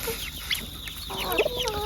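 Chickens clucking and chattering close by while pecking at sunflower seeds offered by hand, with several short calls scattered across the moment over a soft outdoor farmyard background.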